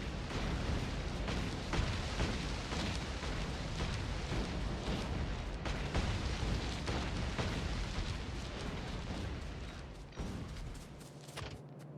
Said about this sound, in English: Let me just grenade down these trees.